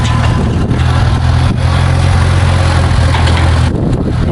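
Small engine of a restored hay rake running after carburetor work, a loud, steady, close droning hum that holds evenly throughout.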